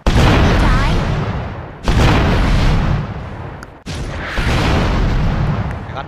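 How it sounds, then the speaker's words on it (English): Rocket launcher blasts in the Roblox game Fortnite Simulator boom loudly three times at roughly two-second intervals, each sharp impact followed by a rumbling decay, with a voice talking over them. "Got the guy there with a rocket."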